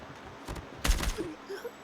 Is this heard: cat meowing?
no